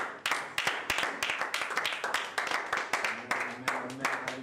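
A church congregation at a French-language service claps in a fast, steady rhythm while acclaiming the Lord. The clapping is close and continuous for several seconds.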